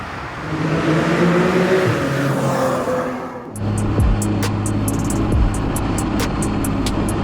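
A Porsche 997.2 911 engine revs hard on launch control and holds at high pitch, then cuts briefly and surges again with sharp popping bursts, loud and close.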